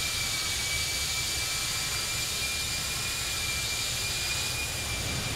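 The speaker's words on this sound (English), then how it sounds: "we are currently flying the Aerosoft Airbus A319 in the Allegiant livery" Aerosoft Airbus A319 jet engines in Allegiant livery, heard in a flight simulator game on a Las Vegas to Idaho Falls flight: a steady, unbroken engine drone with a faint high whine running throughout, with no talking.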